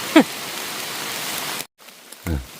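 Rain falls in a steady hiss outdoors while foraging for wild mushrooms, cut off abruptly partway, with brief voices at the start and end.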